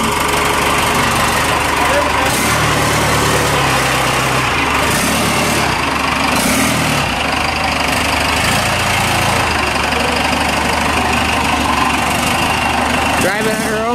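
A 1982 Ford F150 truck engine runs continuously up close with a rough, rumbling idle and some knocking, loud and steady throughout while people talk over it.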